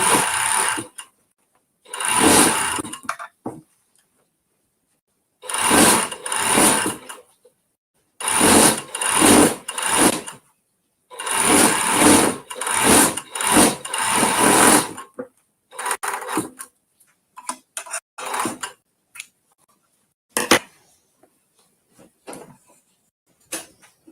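A sewing machine stitches fabric in repeated bursts of fast whirring, each lasting a second or two with pauses between, growing sparser and shorter toward the end.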